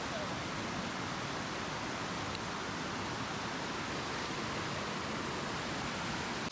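River water rushing steadily at a crossing on the monsoon trek to Devkund waterfall in the Sahyadri hills of Maharashtra, a dense, continuous broadband roar with no breaks or voices.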